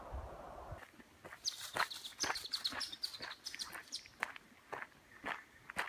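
A bird at Beaver Lake in Pictured Rocks National Lakeshore, Michigan, giving short bright chirps and a few sustained high calls, mixed with crunching footsteps on a trail nearby.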